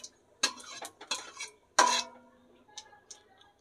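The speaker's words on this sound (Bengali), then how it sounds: "তেলের মধ্যে দেখো জিরে দিয়ে দিয়েছি, জিরেটা আমি ভালো করে একটু হালকা করে নেড়ে নেব।" A utensil stirs cumin seeds in hot oil in a pan, giving close, sharp clinks and scrapes in irregular bursts with short quiet gaps between them.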